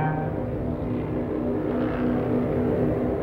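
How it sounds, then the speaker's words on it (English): A Junkers Ju-87 Stuka dive bomber drones with a steady, loud, low propeller-engine roar that stays even and close throughout, with no voices over it. "The most notorious was the Junkers Ju-87 Stuka dive bomb."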